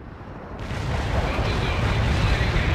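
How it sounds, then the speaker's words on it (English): Heavy artillery explosions in World in Conflict rumble as a sustained barrage, a thick low roar that swells after a brief quieter start and keeps going loudly. "Heavy artillery strikes fired."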